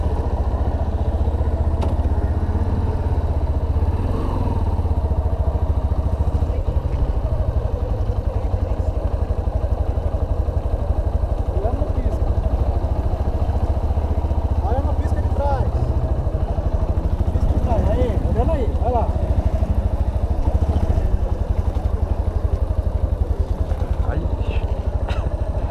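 A motorcycle runs at low speed throughout a riding training course, its steady engine rumble continuous and fairly close, with people talking over it.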